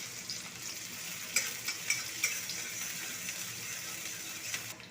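Chopped onion and dried red chilli hit hot mustard oil in a pan, producing a steady, fairly soft hiss of frying with a few faint clicks of stirring and no voices.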